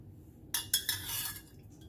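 A spoon clinks and scrapes against a bowl of homemade boba dough with hot water a few times in quick succession, followed by a short stretch of soft stirring, close and fairly quiet.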